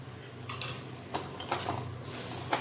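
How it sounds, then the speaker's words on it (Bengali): Chhana bhaji with ground coriander, cumin, chili and turmeric stirred in a pan, a spatula clinking and scraping in short repeated strokes against the metal at close range. "এখন এটাকে আবার আমি কষিয়ে নেব। আবার কষিয়ে নিয়েছি।"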